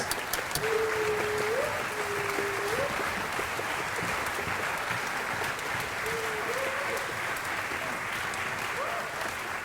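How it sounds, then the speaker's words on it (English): Steady, sustained applause from an audience at a music program rehearsal honoring faculty members, filling the room evenly with a few faint voices or tonal calls rising over the clapping. "Will they rise and get a round of applause, please?"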